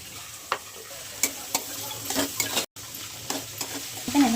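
Curry leaves and onion frying in a pan for South Indian sambar, a steady close sizzle broken by repeated sharp scrapes and clatters of stirring, with a brief dropout near the middle and no voices.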